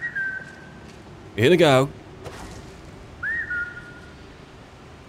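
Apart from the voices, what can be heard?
whistles while playing modded Skyrim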